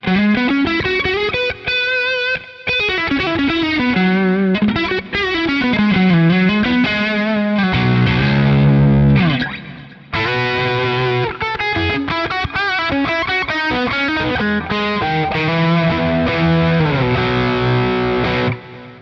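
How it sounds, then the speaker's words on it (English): Overdriven electric guitar in a glassy Marshall Plexi tone on a Quad Cortex, pushed by a Timmy pedal, plays continuous chords and runs on the neck pickup before moving to the bridge, loud and steady throughout. "Let's kick it with a Timmy and hear how it sounds. So here it is on the neck pickup again."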